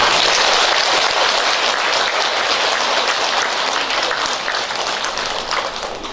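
Loud, sustained applause from a Buddhist temple audience at a book publication ceremony for the monk Ilcho at Donghaksa, honoring the student monks. The dense clapping holds steady throughout and tapers slightly toward the end.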